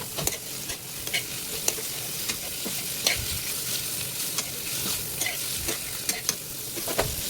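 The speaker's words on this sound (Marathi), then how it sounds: "जस्ट स्टर फ्राय करून घ्यायचं ह्या व्हेजिटेबल्सला" Cabbage, peppers and mixed vegetables stir-frying for Hakka noodles hiss with a steady sizzle, broken by repeated sharp clicks and scrapes of a utensil tossing them in the pan, close and fairly loud with no voices.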